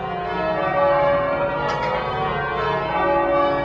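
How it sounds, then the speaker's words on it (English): Trinity Church's set of 12 tower bells, hung for change ringing, rings out in a steady sustained wash of overlapping tones, loud and reverberant with no voices. "Trinity now has the only set of 12 tower bells hung for change ringing in the United States."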